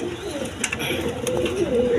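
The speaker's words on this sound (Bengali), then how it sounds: "এইখানে এক পেয়ার মিলি রেসার আছে দেখেন, এটা নর আর এটা মাদি" A pair of milky racing pigeons, a male and a female, coo softly up close in a market setting, with low murmuring calls over a steady background hum.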